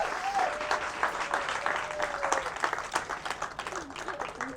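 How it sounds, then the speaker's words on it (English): Audience applause for a volunteer at a magic show: a fairly soft, even wash of clapping from the crowd, with a voice talking over it near the start and middle. "Give her a big round of applause."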